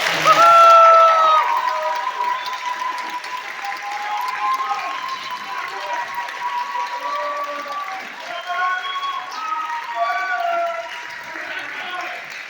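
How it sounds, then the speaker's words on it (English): An audience applauds a logistics crew at a music ensemble event, a sustained round of clapping that is strongest at first and then settles into a steady, moderately loud patter mixed with crowd murmur. "Would you give our logistics crew a round of applause, please?"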